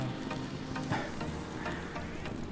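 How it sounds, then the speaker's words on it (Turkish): Cooking oil sizzles steadily in a pan at a seaside campsite, a soft continuous hiss with small crackling splatters, fairly close and unbroken by talk. "Çok atma havadan yağ sıçrıyor"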